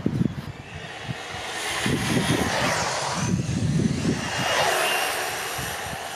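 An RC car on a 3S LiPo with a larger pinion gear races at high speed, its electric motor whining as it rises and fades through a continuous, fairly loud pass with no talking.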